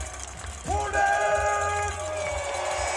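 A crowd at a ski jumping presentation at Holmenkollen in Norway cheers and whoops in a burst that swells and then stays at a busy level, with an announcer's voice over the noise.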